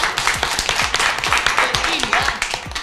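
A group of schoolchildren claps together for a classmate, a quick, fairly even patter of many hands over a busy, noisy room with voices mixed in.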